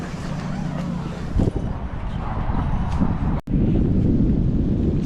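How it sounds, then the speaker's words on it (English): Strong wind at a pond buffeting the microphone, producing a constant loud low rumble with gusty surges throughout, and no talking. "It's a little windy out here today."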